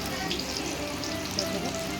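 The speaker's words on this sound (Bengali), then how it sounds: "এখন মাছ ভাজা চলছে" Fish frying in hot oil for a home-cooked birthday meal gives a dense, even sizzle that holds steady and close throughout, with no talking.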